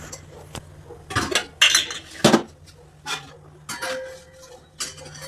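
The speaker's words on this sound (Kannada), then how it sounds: "ಒಂದು ಪ್ಯಾನ್ ಕಾಯಕ್ಕಿಟ್ಟಿದ್ದೀನಿ" A pan set down on a home kitchen stove to heat, with several sharp metallic clanks and clinks of cookware spaced through the stretch, close and fairly loud over a steady low hum.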